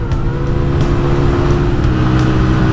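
Motorcycle engine droning steadily and loudly on a first winter ride, a constant close rumble with wind noise and no speech.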